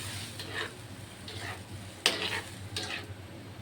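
Minced meat is stirred in a pot while cooking for a yellow noodle soup, giving soft scraping strokes about once a second over a low steady sizzle and kitchen hum.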